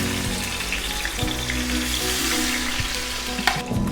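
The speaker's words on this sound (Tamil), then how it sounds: "ஓகே, ஆயில் சூடாயிடுச்சு, ஃபிஷ் போட்டுடலாம்" Fish sizzles steadily in hot sesame oil in a pan, a dense continuous frying hiss with a few soft stirring knocks and a brief sharper clink near the end.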